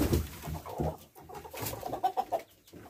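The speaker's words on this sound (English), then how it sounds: "Here's yet a rooster." Chickens in a coop with a rooster, giving soft clucks and short murmuring calls in a quick, irregular run, close by and fairly quiet.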